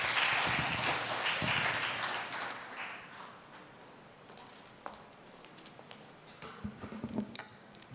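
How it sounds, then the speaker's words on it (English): Applause from a seminar audience on medical negligence law, loud at first then thinning out, followed by scattered clinks and light knocks in the room. "a huge round of applause to all of you"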